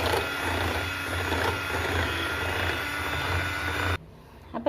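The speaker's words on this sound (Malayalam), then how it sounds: "ഇതെല്ലാം കൂടെ നമുക്ക് നന്നായിട്ടൊന്ന് ബീറ്റ് ചെയ്ത് എടുക്കണം" An electric mixer whirs steadily, beating cream with vanilla and powdered sugar into a thick cake frosting, a loud continuous buzz that cuts off abruptly near the end.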